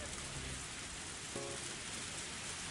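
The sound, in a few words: rain sound effect in Higurashi visual novel game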